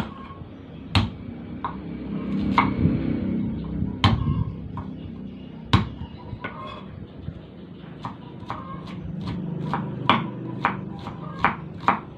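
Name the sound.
crushing and chopping shallots with a knife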